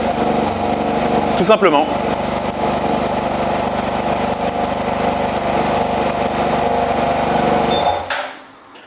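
A 2022 Yamaha TMAX 560 scooter engine cranks briefly and settles into a steady, close idle hum that runs for several seconds before fading out, with someone speaking French over it.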